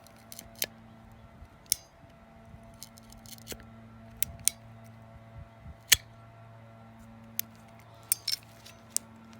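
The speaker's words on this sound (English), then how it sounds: "Now watch this, watch how this thing ratchets." EZ Kut ratchet pruner working through a crepe myrtle limb outdoors in fall, giving a series of sharp, isolated clicks and snaps spaced irregularly over several seconds against a quiet background with a low steady hum.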